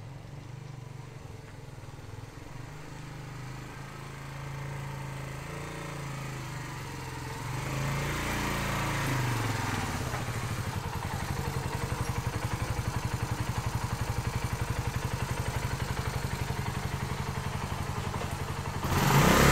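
Suzuki TU250X single-cylinder motorcycle engine idling steadily while warming up, a continuous close mechanical rumble that grows slightly louder toward the end.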